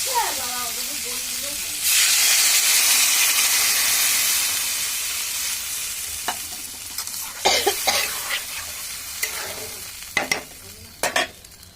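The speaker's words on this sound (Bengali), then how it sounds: "ঝোলটা ভালো মতো ফুটে গেছে" Fish curry gravy for shol fish bubbling in a pan, a broad hiss of boiling rising sharply after a quiet start and slowly fading, followed by several sharp clanks of a spoon against the pan.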